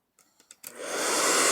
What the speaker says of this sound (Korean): 그 다음에 드라이기로